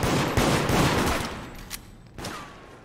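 Gunfire in the video game Deceit: a dense, loud burst of rapid shots fills the first second and a half, then thins to scattered sharper cracks and a fading tail, with no voices.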